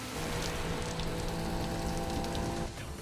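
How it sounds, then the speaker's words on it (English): Steady rain hisses over a downhill car race in the anime Initial D Fourth Stage, a dense wash of patter with a low engine drone and faint tones beneath, fading slightly near the end, with no speech. "This rain's a bitch, that's why."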